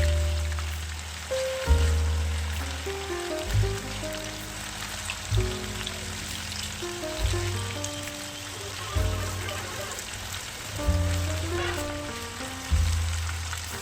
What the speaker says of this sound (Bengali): চিকেনের 2 দিকেই এইভাবে লালচে কালার করে ভেজে নিতে হবে